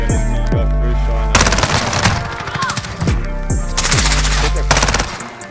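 Loud bursts of automatic gunfire in a Modern Warfare multiplayer match, dense rapid rattling volleys broken by short pauses, set over a steady droning tonal background.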